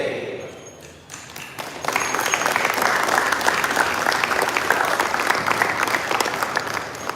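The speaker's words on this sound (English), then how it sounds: "I'm clapping to you" Clapping from a chanting congregation at an ISKCON evening program in Hyderabad, starting after a short quiet lead-in and swelling into dense, sustained applause that holds steady for several seconds.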